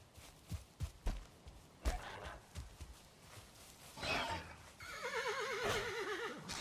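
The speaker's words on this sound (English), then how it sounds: "I hear horse sounds here." A horse in the video game Valheim gives a loud, wavering whinny near the end, preceded by scattered hoof clops and footstep thuds, with faint in-game ambience beneath.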